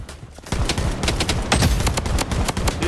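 Shotgun fire in the shooter Blood Strike, a loud, dense run of rapid overlapping gunshots beginning after a brief quiet lead-in and continuing steadily to the end.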